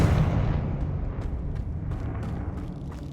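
A Confringo blasting spell explodes in Hogwarts Legacy, a loud, deep rumbling burst that starts at full strength and slowly fades away alone.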